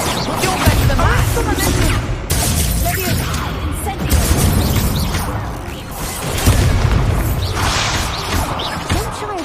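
The Descendo spell is cast in the video game Hogwarts Legacy, giving loud whooshing swipes and heavy crashing slams that recur every couple of seconds, close and forceful throughout.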